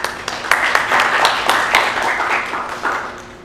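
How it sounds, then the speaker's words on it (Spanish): An audience at a science and poetry talk applauds, a close, moderately sized crowd whose individual claps stand out in an uneven rhythm before thinning toward the end. "un aplauso para vos"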